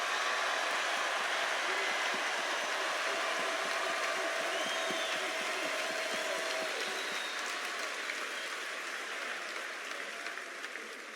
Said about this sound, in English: You owe him a big round of applause.